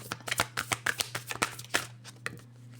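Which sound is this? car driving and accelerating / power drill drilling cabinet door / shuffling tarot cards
shuffling tarot cards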